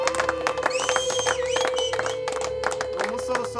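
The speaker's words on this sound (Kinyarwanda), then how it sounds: "mwongere mukoma amashyi mumwakire" A wedding crowd claps and cheers to welcome the groom, with scattered whoops and shouts over a steady sustained musical tone, loud and continuous throughout.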